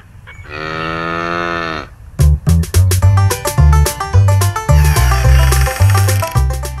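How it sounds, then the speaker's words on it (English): A cow gives one long, loud, sustained moo on its own, then it stops and a bouncy children's melody with a strong bass line comes in and carries on to the end. "Cow."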